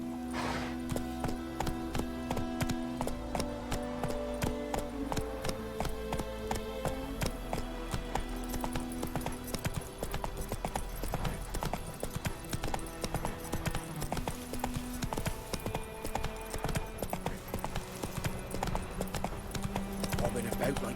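Horse hooves galloping in The Witcher 3, a steady fast clip-clop rhythm of hoofbeats running throughout at close range, with occasional game music tones underneath.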